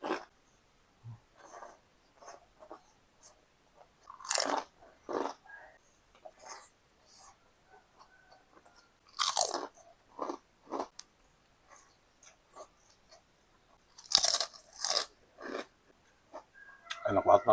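Close-up mukbang chewing and crunching of corn rice (nasi jagung), with intermittent wet bites and crisp crunches separated by quiet pauses, plus occasional soft mouth sounds.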